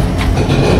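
Inside the AC cabin of the Chitra Express passenger train as it pulls out of Bheramara station, a loud, close rumble of rolling wagons with a brief rattle, very short.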